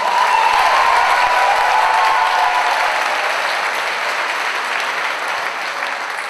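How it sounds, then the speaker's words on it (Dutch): Big audience applause at a pop concert, a loud, dense, sustained wash of clapping from a large crowd that holds steady for the whole stretch with only a slight easing toward the end. "Hartstikke dapper, geef een groot applaus."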